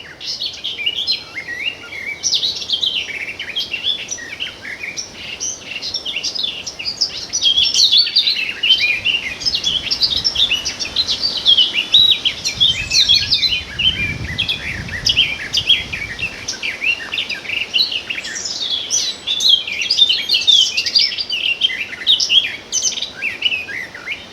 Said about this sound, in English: Are they blackcaps or nightingales?